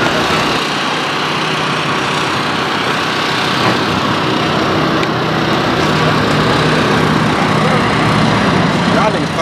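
A racing car engine runs at Irwindale track during a testing session, a loud, steady, raspy drone that holds for several seconds with broadband roar and little variation in level.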